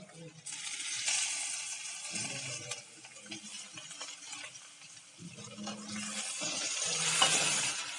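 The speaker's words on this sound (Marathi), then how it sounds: "आता आपले छान असे टोमॅटोही परतून घेतील आहे" Tomatoes sautéing in a pan over roasted, browned onion for a dried-fish chutney, with a soft steady sizzle, stirring scrapes and occasional clinks, close and moderately quiet.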